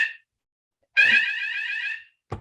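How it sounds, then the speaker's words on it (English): A fire alarm sounds one sustained, shrill electronic tone lasting over a second, with short clipped bursts just before and after. No voices. "That's the fire alarm."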